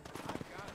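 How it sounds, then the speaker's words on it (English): A horse's hooves clip-clop briefly in the Western video game Red Dead Redemption, a few soft, uneven beats under a wash of background sound, quiet and quick. "Ride your horse to the hitching post."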